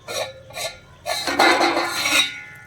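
A metal lid lifted off a covered pot of clam curry, with a couple of short clinks followed by a sustained metallic scrape and rattle up close, no talking.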